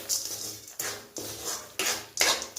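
A spoon scrapes and clatters around a pan while sesame seeds and fennel are mixed into a chana chikki mixture, giving about five distinct scraping strokes in an uneven rhythm, close and fairly loud.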